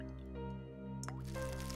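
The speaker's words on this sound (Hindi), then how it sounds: "शायद कुछ टपकने की आवाज आ रही है। शायद लीकेज होगा।" Liquid drips from a leak, a few soft, close drip and squish sounds over a constant low electrical hum, with no talking.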